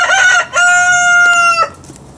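A rooster crows twice at close range, loud and clear, each call long and drawn out with a short gap between them and no other sounds.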